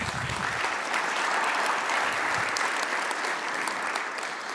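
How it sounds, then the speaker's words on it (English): Audience applause at an AIAA aviation forum award presentation, a steady, dense clapping from a large crowd that fills the room evenly and continues throughout without voices. "Another round of applause for Kumar and his great work."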